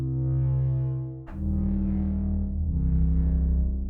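A loud, droney synth instrument with a deep bassy tone, light distortion and dual delay sustains a heavy note, breaks off with a sharp attack, then swells back into the thick drone.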